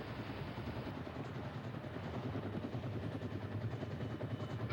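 A rescue helicopter hovering near a ship while astronauts are lifted aboard in a net: a steady, faint rotor drone with a continuous low throb and no talking, as if heard from a distance.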